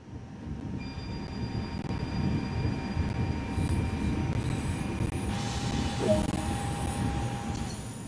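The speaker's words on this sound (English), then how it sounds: "Let's take a look now while the train is in motion." A train in a video game rolls steadily along the rails with a continuous low rumble and faint metallic tones, a brief squeal rising near the end.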